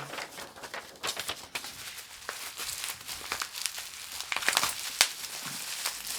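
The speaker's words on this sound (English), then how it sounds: "Tear this sucker open." Packaging of a Magnus titanium turtle fidget slider being torn and crinkled open by hand, a close run of rustling, crackling and ripping bursts with no speech.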